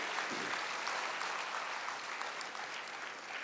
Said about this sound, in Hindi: आप सभी के लिए सब जोरदार तालियां सभी के लिए